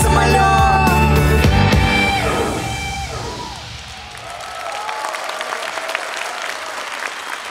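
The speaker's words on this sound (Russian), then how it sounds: "Ваши аплодисменты" An audience bursts into applause and cheering right as a song about an airplane ends, the music's final notes fading under the clapping, which swells loudly then eases into a thinner, sustained patter.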